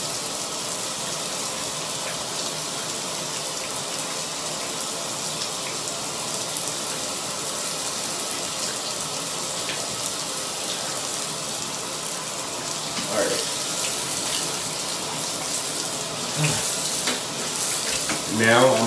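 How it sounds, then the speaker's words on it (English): Water runs steadily in a home bathroom during a hair deep-conditioning routine, a dense, even hiss that grows slightly louder near the end. "I'm about to shower, like actual shower"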